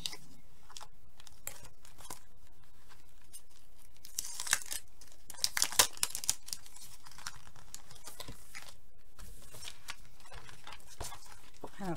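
A plastic heat-shrink sleeve package being torn open by hand: close crinkling and tearing rustles, strongest in a brief burst around the middle, otherwise soft handling noise with no talking.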